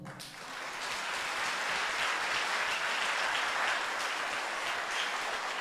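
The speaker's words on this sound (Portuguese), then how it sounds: "Na África alguém ia aplaudir." Church congregation breaking into sustained applause, a broad even roar of many hands that rises quickly and holds steady, with no voices over it.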